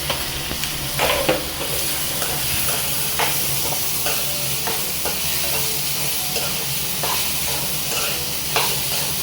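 Chopped tomatoes fry in a hot pan for palak paneer, giving a continuous close sizzle broken by clacks of stirring, with no voices.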